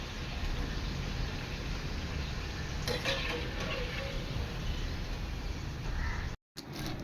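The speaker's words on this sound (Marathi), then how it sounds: "अशा प्रकारे सर्व आमट्या मी तळून घेते" Sweet rice fritters (chamtya) deep-fry in oil with a dense, even bubbling hiss throughout, brief brighter crackles midway and a momentary cutout near the end, with no speech.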